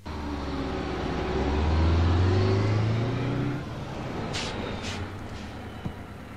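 A bus pulls in during a Telugu comedy film scene, its engine rumbling loudly and rising in pitch before easing off, followed by a couple of brief high squeals near the end; no one speaks.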